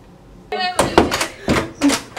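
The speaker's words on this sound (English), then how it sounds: "You gotta really yank the door handle." A car door is yanked hard by its handle, giving several heavy thunks and rattling clunks in quick succession at close range, with voices mixed in.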